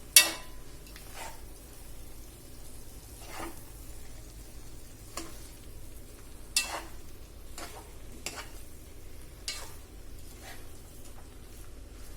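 A spoon stirs a crushed coconut mixture through dry aviyal in a pan for an Onam sadhya, making soft scraping strokes at an uneven pace, quiet and close, with no talking.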